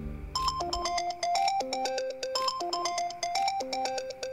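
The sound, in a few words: phone ringtone ringing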